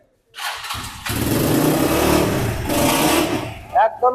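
A used KGF Caperacer motorcycle at a second-hand bike gallery is electric-started: a brief crank, then the engine catches and settles into a loud, steady idle nearby, and a voice cuts in at the end.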